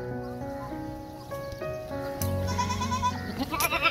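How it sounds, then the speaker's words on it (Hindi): A small, healthy goat on a farm bleats in several wavering calls close by, with another animal and faint background noise around it. "यहाँ पे एक बकरी है, ये गब्बन है, माशाल्लाह बड़ी प्यारी हेल्दी बकरी है।"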